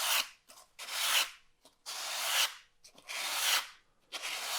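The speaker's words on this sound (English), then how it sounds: "I'm just gliding the sandpaper along." Sandpaper glides lightly over sealed EVA foam in five or six long, soft rasping strokes, each a broad hiss that rises and fades with short quiet gaps between passes, close and alone with no talk.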